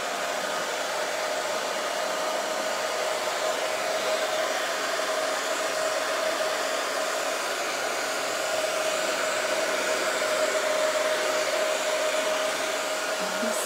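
A hair dryer blows steadily and loudly to dry paint on a wooden paddle gnome craft, its even whooshing roar with a faint whine running unbroken and close throughout.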